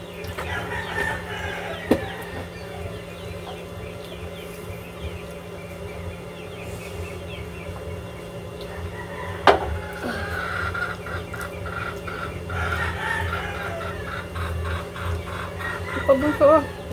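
Chickens clucking with a rooster crowing among them, moderately near, over a steady background hum and buzzing insects, with occasional knocks and faint voices.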